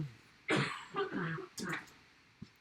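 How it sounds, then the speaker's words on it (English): A few rough coughs and throat clearings sound in quick succession, somewhat distant and muffled, with a softer click near the end. "There's the wife going and coughing in the background"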